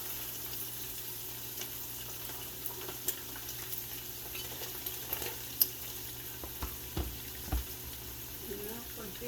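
Green onions frying in a pan while a beef stew with greens is cooked, a faint, low sizzle carrying a few soft clicks and knocks of stirring against steady kitchen background noise.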